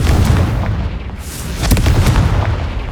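The Confringo explosive spell goes off in Hogwarts Legacy as loud, booming blasts over a dense rumbling game soundscape, with a sharp burst about midway.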